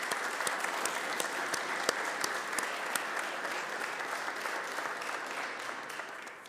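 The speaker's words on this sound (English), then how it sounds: "I'd like to start with a round of applause for our public safety and all the events." An audience at a city council meeting applauds for public safety staff, a sustained round of clapping with some sharper individual claps standing out, moderately distant and tapering slightly toward the end.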